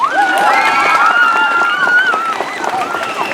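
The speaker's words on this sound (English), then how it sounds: "Big round of applause to Christine Pajewski." A crowd at a swim team's end-of-year party cheers and shouts for a swim coach, with close, loud whoops and raised voices and scattered claps running continuously.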